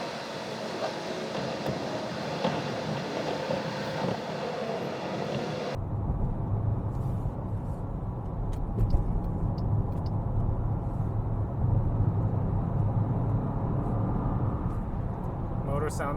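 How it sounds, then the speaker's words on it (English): A 2026 Jeep Grand Cherokee Summit with a turbo engine cruises near 70 mph, giving a steady low road and engine rumble inside the cabin, with a faint turbo whine and occasional talk over it. "You can hear some of the turbo."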